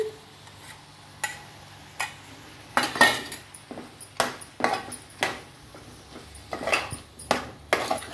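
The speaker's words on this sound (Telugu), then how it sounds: "సరిపడా ఉప్పు, కారం, పెరుగు వేసుకొని చక్కగా కలబెట్టి" Salt, chili powder and curd are mixed into a Guntur-style prawn curry, with irregular metallic clinks and scrapes of a spoon against the pot that grow busier toward the end, close by and without speech.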